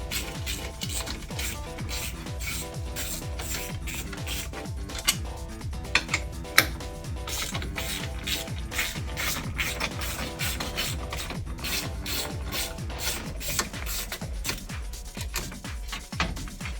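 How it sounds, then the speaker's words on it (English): A 10mm hex socket undoes screws during power steering pump removal on a Mercedes OM642 3.0 V6 CDI engine, giving a steady close scraping, rasping and ticking of ratchet and metal handling throughout. "with the standard hex 10mm hex socket, we undo all these screws"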